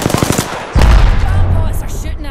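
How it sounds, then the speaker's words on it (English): Rapid bursts of automatic gunfire from bots in Apex Legends, a quick volley of sharp shots followed by a loud, heavy blast that rings out and decays. "Bots are shooting at me."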